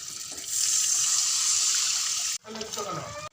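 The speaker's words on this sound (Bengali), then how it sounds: "জল দিয়ে দেব" Water pours steadily into a pot of fish curry with papaya and potato, a close splashing rush lasting a couple of seconds before an abrupt cut to softer trickling and clatter.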